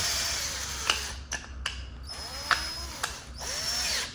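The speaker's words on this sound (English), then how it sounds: "when I'm drilling them, what's happening is the screw's going in" A power drill whirs in several short bursts with brief pauses between, close by, with small clicks and ratcheting at the stops, driving pocket screws into wooden boards of a vintage trailer door.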